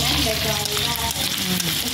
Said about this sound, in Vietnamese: Bây giờ chúng ta sẽ xào rắn rồi xong mới đổ nồi cháo nha các bạn